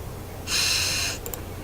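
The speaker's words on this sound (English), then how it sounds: "You sniff the air." A quick breathy sniff of the air in a cartoonish game scene, a single soft burst lasting about half a second, followed by two tiny faint ticks against quiet background hum.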